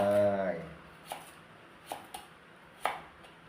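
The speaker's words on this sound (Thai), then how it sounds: "หั่นลงไป หั่นแล้วแต่มะเขือนะครับ" A few sharp knife cuts through firm eggplant on a board, spaced irregularly, following a brief bit of speech at the start.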